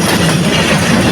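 A train passing near Noapara, a continuous loud rumble and rush of railcars rolling by close to the listener, steady throughout with no pauses or voices.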